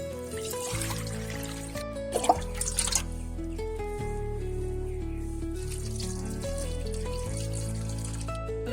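Water running into a pan set on the stove for boiling eggs, a steady trickle with dripping over background music, and a brief clatter partway through.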